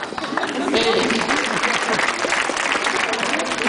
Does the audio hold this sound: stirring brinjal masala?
no